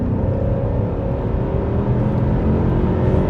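A Mercedes-Benz W124 E500 V8 accelerating smoothly with a steady, loud rumble and rising whir, heard from inside the car without hesitation, continuous throughout.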